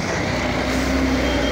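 Heavy traffic at Karla Phata junction near Lonavala, with large vehicles such as trucks and buses rumbling close by, a steady engine drone and a faint tonal whine.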